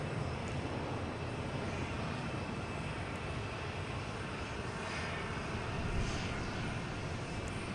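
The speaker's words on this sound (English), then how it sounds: "Here we have Delta taking off, heading to Newark, in E170" A Delta Embraer E170 jet takes off from Boston Logan bound for Newark, its engine roar loud and sustained from start to finish with no talking.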